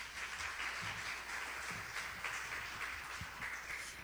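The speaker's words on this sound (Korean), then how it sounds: "교수님께 따뜻한 박수 부탁드립니다" Warm applause fills an audience hall at a Korean infectious-disease symposium, as a pediatrics professor is welcomed; steady, moderately faint clapping continues evenly throughout with no voices.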